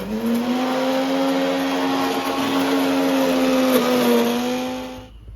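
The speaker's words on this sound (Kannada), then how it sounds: "ಚಿಕ್ಕದಾಗಿ ಕಟ್ ಮಾಡ್ಕೊಂಡಿರೋದನ್ನ ಒಂದು ಮಿಕ್ಸಿ ಜಾರಲ್ಲಿ ಹಾಕಿ ಪೇಸ್ಟ್ ಮಾಡ್ಕೊಳ್ಳಿ" Kitchen mixer grinder blending chopped beetroot into a paste, its motor giving a loud, steady droning whine that wavers slightly in pitch, then winds down and stops near the end.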